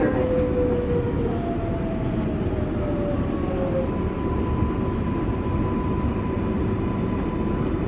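A New York IRT R142A subway train on the Bronx-bound 6 local rumbles steadily throughout, with a whining electric motor tone gliding downward above the loud, continuous roar of the cars.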